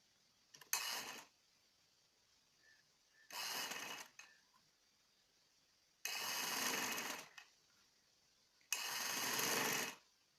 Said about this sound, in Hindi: मगजी हम यहाँ से स्टार्ट करेंगे और हल्के हाथ से सिलाई लगाते हुए